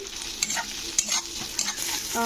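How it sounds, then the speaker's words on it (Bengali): Ginger-garlic paste frying in a pan on lowered heat while being stirred, a steady hiss of sizzling with a few scraping strokes of the spoon against the metal, close and continuous, no speech. "পেস্টটা দিয়েও কিন্তু দু মিনিট মতন নাড়তে হবে"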